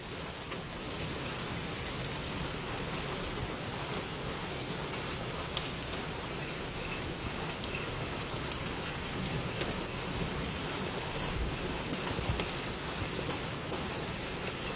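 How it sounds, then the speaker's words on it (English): Steady rain falling outdoors in western Oklahoma after a hail storm, a constant soft hiss of drops on surfaces with occasional louder patters, fairly quiet and without voices. "hopefully the hail's done and it's just rain now"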